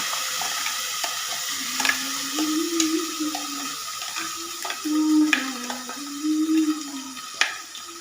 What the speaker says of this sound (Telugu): నేనైతే పోపు పెట్టేసుకుంటున్నాను